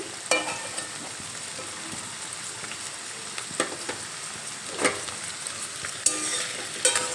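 Diced potatoes frying in oil in a pan, a soft continuous sizzle broken by several sharp scrapes and clinks as a utensil stirs them at irregular intervals.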